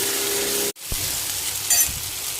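Masala paste for mutton curry frying gently on low heat in a pan, a steady soft broadband sizzle that briefly cuts out, then resumes with a couple of small stirring scrapes.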